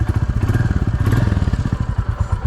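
A Royal Enfield Classic 350 idles close by on sand, its single-cylinder engine thumping in a loud, rapid, even beat throughout with no voices.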